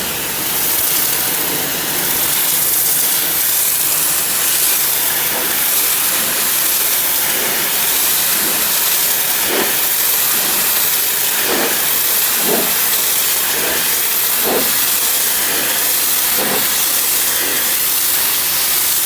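A pressure washer sprays through an adjustable wand fitted with a low-pressure nozzle, giving a loud, steady hiss of water that holds throughout with faint rhythmic pulses beneath.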